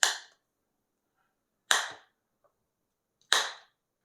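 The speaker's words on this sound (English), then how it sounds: "You can also trim these sharp corners with the help of corner cutter." Three crisp snapping clicks come from a corner cutter rounding the corners of a laminated document, evenly spaced about 1.6 seconds apart, sharp and close with silence in between.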